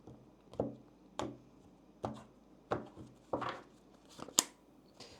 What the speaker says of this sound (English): Go ahead and shuffle the cards here.